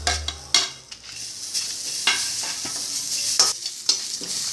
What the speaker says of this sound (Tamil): இப்போ பாருங்க, நல்லா வறுபடுறது.